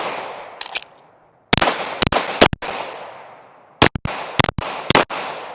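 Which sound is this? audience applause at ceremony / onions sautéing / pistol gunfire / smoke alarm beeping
pistol gunfire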